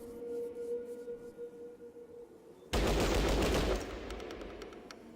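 Gunfire in the Fallout Tactics video game: after a quiet stretch, a sudden loud burst of shots erupts and rattles for about a second, then tapers into a fainter echoing tail with a few sharp clicks.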